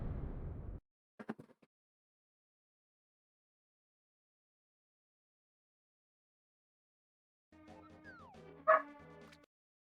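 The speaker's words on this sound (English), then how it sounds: "Can you let the dog in, please?" A dog gives short yips and barks after a noisy start and a brief burst, then a long silence and a final run of whimpering yelps and a bark, close and fairly loud.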